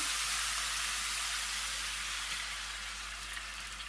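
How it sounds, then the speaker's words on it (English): A loud, steady hiss of food frying in hot vegetable oil, crackling and sizzling nonstop and easing off slightly toward the end. "Because I wanted to get a different type of sizzle to it."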